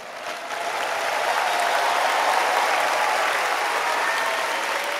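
Loud, sustained applause from a church congregation, swelling within the first second and holding steady throughout.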